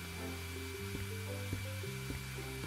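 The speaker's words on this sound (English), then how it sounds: "Vacuum up all the little glass pieces that are broken." A vacuum cleaner drones steadily in House Flipper 2, sucking up broken glass. Its motor whine shifts pitch slightly while running continuously at moderate volume.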